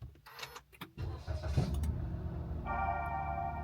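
A Toyota Raize GR Sport automatic starts from its push-button start-stop: a brief chime and clicks, then the engine cranks and settles into a steady close idle.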